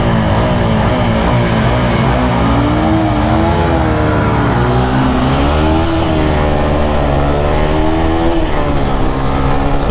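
Xtreme 160R 4V, Apache 160 4V and Pulsar NS160 motorcycles accelerate hard in a drag race, engines droning loudly with rising pitch sweeps as they rev through gears, close and continuous throughout.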